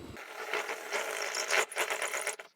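A drill bit widening a hole in wood for a sauna chromotherapy power cord, a close whirring, grinding bite with a gritty texture that rises and dips briefly before the drill stops.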